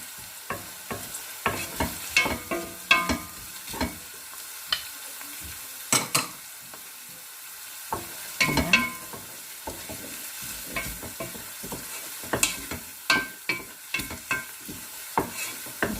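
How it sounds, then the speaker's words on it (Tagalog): Garlic sizzles in hot pork fat in a pan while being stirred, with a steady frying hiss under sharp, irregular scraping and clinking taps of a utensil against the pan, close and fairly loud. "So ilagay ko na yung aking garlic"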